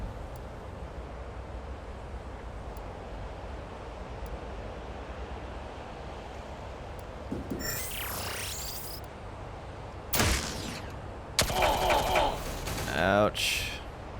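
Gunfire in the turn-based game Xenonauts 2, heard as a few sharp synthetic shot bursts and zapping blasts in the second half, rising out of a quiet low wind-like ambient drone.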